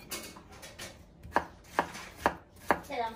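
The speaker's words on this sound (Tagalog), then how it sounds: "Ihiwain natin siya maliliit." Knife chopping potatoes into small pieces on a board, about five or six crisp knocks at an uneven pace, close and clear, with no speech.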